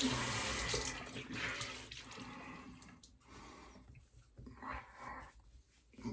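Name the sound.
tap water running while rinsing off after a shave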